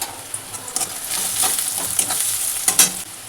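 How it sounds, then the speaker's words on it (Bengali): Chopped onions fry in hot oil with a bright, loud sizzle, broken by clacks and scrapes of stirring, up close and without talk. "এইবারে আমি এই কুচনো পেঁয়াজগুলো দিয়ে দেবো। পেঁয়াজগুলো ভাজা ভাজা হয়ে যাক।"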